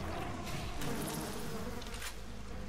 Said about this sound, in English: Send the bees out.